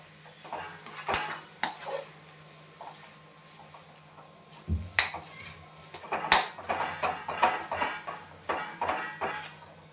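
A metal spoon clinks and scrapes against a pan while potato curry with fresh coriander is stirred, giving a steady series of close, light knocks and scrapes with no one speaking.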